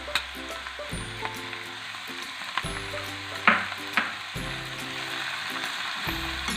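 Spinach and capsicum fry in a pan for a vegetable frittata, giving a steady, close sizzle with a few sharper pops, while soft music with a repeating pattern plays underneath.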